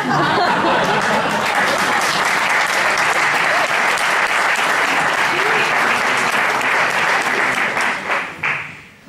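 A political rally crowd breaks into loud, sustained applause with a few chuckles, then fades out at the end.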